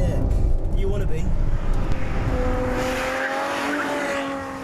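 A Ferrari F12 Berlinetta, the front-engined V12 two-seater supercar, drives on road and track, its engine note climbing steadily in pitch, loud and near, with tyre noise and someone talking over it.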